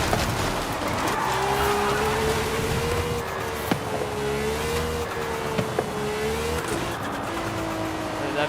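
A drifting car in a racing video game hums with a steady whistling exhaust tone over engine drone and intermittent tire squeal, lasting throughout.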